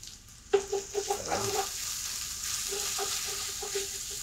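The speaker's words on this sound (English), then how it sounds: "if you listen to the sound, the frying, it gets gentler and gentler because the water is evaporating." Onions frying in a pan for a vegetable lasagne give a steady soft sizzle, with a few clinks and scrapes of stirring near the start and again later, fairly close and moderately quiet.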